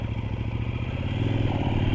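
A 2024 KOVE 800X adventure motorcycle engine drones steadily up close while riding on a test ride, a rough continuous roar with slight rising pitch.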